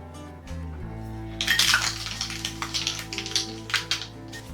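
Ice cubes clink and rattle repeatedly against a glass as a drink made with cider is stirred, a busy irregular series of close taps and chinks.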